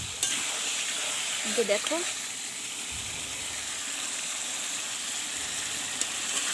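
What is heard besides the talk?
sautéing spiced potato curry (aloo dum) in pan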